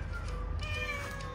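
A sick kitten up in a tree gives a thin, high meow that is drawn out and wavering, close by and fairly quiet over low background rumble.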